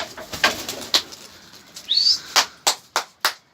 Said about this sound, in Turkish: kuşları şu anda uçuruyoruz dolapçıları